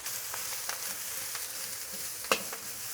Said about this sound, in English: Put the garlic in.